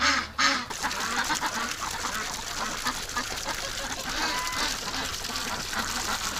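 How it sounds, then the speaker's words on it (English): A dense flock of ducks quacking continuously and loudly on a warm winter day, a constant overlapping chorus of calls with no pauses. "The ducks are wound right up because it's so warm out."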